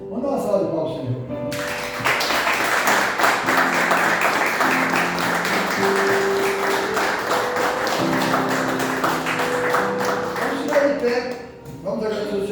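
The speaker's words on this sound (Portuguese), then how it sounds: "Vamos dar uma salva de palmas" A church congregation breaks into sustained clapping and applause after a sermon, loud and continuous for several seconds, mixed with voices and a tonal backing, before fading near the end.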